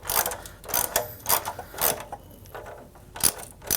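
A ratchet wrench loosens a 13 mm exhaust nut on a 2017 BMW R1200GS Adventure motorcycle, giving several short, close bursts of clicking with brief pauses between them.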